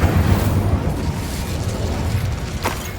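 The roaring, crackling burst of an Incendio fire spell in Hogwarts Legacy, a loud continuous rumble that stays steady throughout, with one sharp crack near the end.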